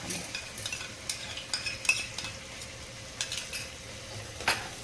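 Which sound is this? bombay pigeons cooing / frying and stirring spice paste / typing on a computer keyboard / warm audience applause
frying and stirring spice paste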